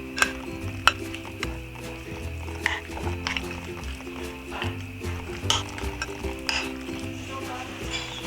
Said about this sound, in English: mix again to coat the shrimp with the flour mixture.